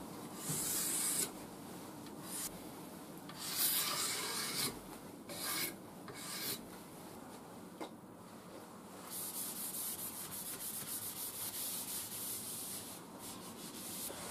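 A Stanley blade scrapes along a wooden axe handle, a Husqvarna Forest axe, in a run of raspy strokes, some short and some longer, then a steadier stretch of continuous scraping, close up and fairly quiet.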